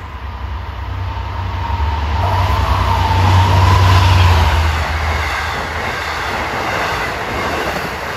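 An LIRR train from Penn Station to Port Jefferson passes Merillon Avenue station with a loud, sustained rumble and a rising, falling rolling roar of wheels on rails. The sound swells to a peak midway and then slowly fades.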